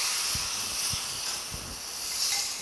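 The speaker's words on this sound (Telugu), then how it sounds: "సో తాలింపు వేసేస్తున్నా." Hot tempering poured into an aloo and mushroom curry gives a loud, steady hissing sizzle throughout, with a few faint low thumps beneath it.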